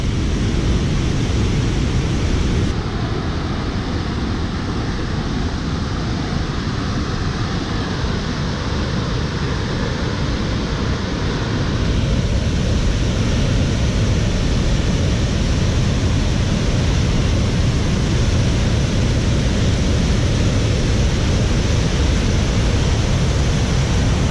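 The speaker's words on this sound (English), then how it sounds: "Oh yeah, that is one heck of a waterfall" Crooked Falls waterfall rushing in a steady, dense roar that fills the whole clip, loud and continuous with no pauses, as a large volume of water pours down nearby.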